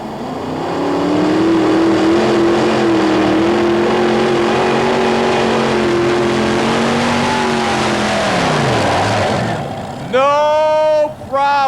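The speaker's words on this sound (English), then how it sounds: "4 powerful Aries engines" A modified pulling tractor with four Aries engines, the Irish Challenger at a 1991 Anaheim tractor pull, roars in a loud, sustained multi-engine drone that holds steady, then drops off before an announcer speaks over the arena.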